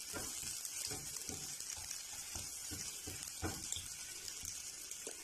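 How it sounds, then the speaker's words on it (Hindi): Carrots and mixed vegetables sauté in a little oil in a pan, giving a steady, close hiss and sizzle with faint stirring scrapes throughout and no talking. "तो सबसे पहले हमारे पास जो कुछ जो है वो सब्जियां हैं, गाजर है, इनको हम सौते कर लेंगे।"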